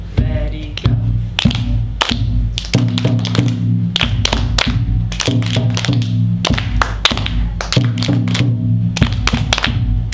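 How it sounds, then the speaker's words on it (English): First-grade children clap a rhythm together in a group with no words, sharp taps repeating in steady patterns, close and loud, with a low sustained tone underneath. "Think the words and just clap."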